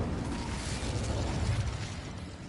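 Confringo and Incendio spell effects from Hogwarts Legacy, a dense rumbling roar of fiery bursts and crackling mechanical clatter, loud and continuous throughout with no talking.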